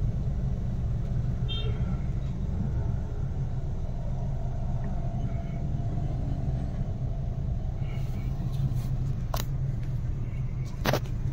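A car engine rumbles at a low, steady drone throughout a driving lesson as the learner works the clutch and speed, with a couple of brief high clicks near the end and a faint horn-like tone.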